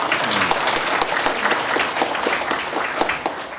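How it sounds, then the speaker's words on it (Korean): Dense, steady applause from an audience at an annual general meeting and year-end evening gathering, many hands clapping at once and filling the room without a break, with no speech over it. "후원해 주신 분들한테 박수 한번 보내주시죠."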